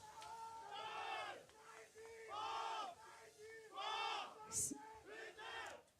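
A crowd at a Formula Student autocross event cheers on a racing driver, with loud rhythmic group chanting in repeated bursts of several seconds and brief pauses between them.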